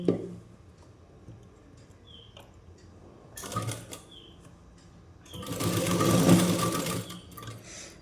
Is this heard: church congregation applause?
no